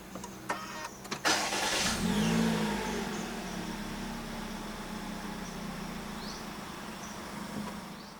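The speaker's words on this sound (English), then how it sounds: "Put your foot on the brake and press the start button to the left of the steering wheel." A 2020 Perodua Myvi 1.5 AV started by push button: a few faint clicks, then the starter cranks and the engine catches with a brief rev before settling into a quiet, steady idle.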